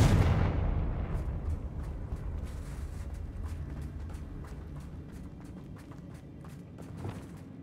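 Confringo explosive spell cast in the video game Hogwarts Legacy, a loud initial blast that decays into a rumbling tail with scattered small impacts and crackles.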